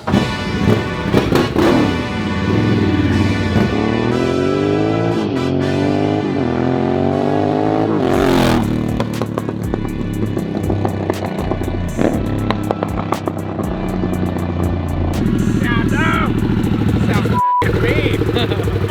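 A Harley-Davidson Sportster S motorcycle with a new aftermarket exhaust rides up and down a street: loud revving with rising throttle sweeps, crackling pops on deceleration, and engine rumble changing through gears.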